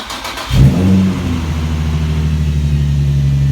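A Nissan 350Z engine cranks and fires up close by after an oil change, briefly revving before settling into a steady, rumbling idle.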